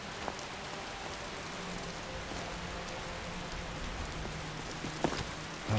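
Steady rain pours outside a keep in a fantasy video game, a dense even patter of drops on surfaces that carries on throughout with a couple of faint knocks near the end and no voices.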